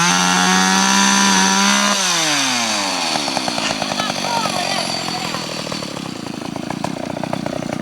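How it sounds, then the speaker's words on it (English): A chainsaw revs up and bites into a fallen tree after Hurricane Hugo in 1989, its engine pitch dropping under load, loud and close throughout. "There's Chainsaw Louise. She's doing a job here."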